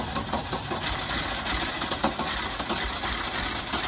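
A Citroën C6 car engine with an ignition fault runs steadily up close, a constant loud mechanical drone with slight rises, no voices over it.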